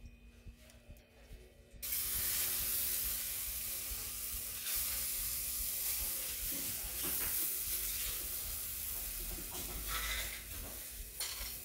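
Banana oat pancake batter sizzles and hisses in a hot pan, a steady loud frying sound that starts abruptly and goes on with small crackles.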